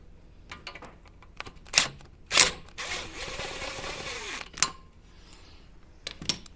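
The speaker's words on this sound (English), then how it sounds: "Just that rattle gun again." A rattle gun impact wrench on Landcruiser 80 Series axle bolts gives one short, moderately loud buzzing burst of under two seconds, set among scattered metallic clinks and knocks from the work.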